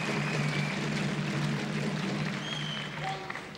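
Badminton crowd applauding and cheering after a point in the Swiss Open final, a brief, moderately loud burst of clapping and crowd noise that fades slightly at the end.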